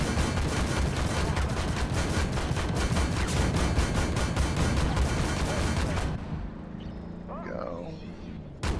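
Rapid, steady autocannon bursts from a tank destroyer in Armored Warfare, loud evenly spaced shots hammering for about six seconds before stopping abruptly, leaving quieter background game noise with faint voices.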